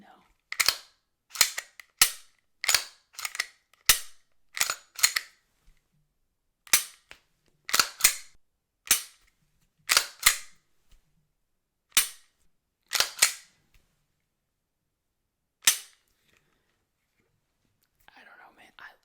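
Dry-fire trigger clicks from a Glock 45 pistol, sharp close mechanical snaps in irregular bursts, quick runs of several clicks separated by short pauses, then sparser single clicks trailing off into near silence.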